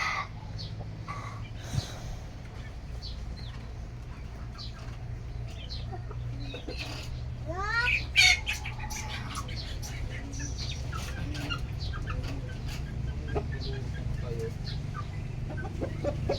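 Roosters sparring, clucking and crowing nearby over a steady low background hum, with scattered chirps and a brief louder burst of squawking partway through.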